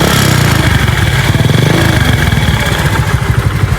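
A motorcycle engine runs loud and close in a rapid, even pulsing throb that holds steady throughout with no voices.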